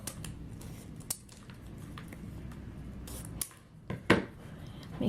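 Scissors snip through fabric for small prayer flag banners, with a few distinct close cuts, the sharpest near the end, over a quiet room.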